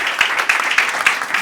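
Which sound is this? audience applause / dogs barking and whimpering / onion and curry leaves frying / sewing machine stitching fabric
audience applause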